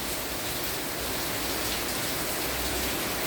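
Steady rain falls with a dense, even hiss, drops pattering continuously on surfaces nearby.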